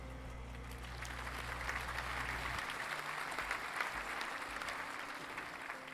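Sustained applause, a dense patter of many hands clapping at even volume, with a low hum in the background that drops out partway through.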